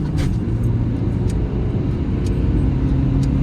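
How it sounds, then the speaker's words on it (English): A 2018 Dacia Duster dCi with a tuned ECU pulls hard through its gears, a steady loud engine drone with road noise filling the cabin continuously, no talking. "First gear, second gear, third gear full"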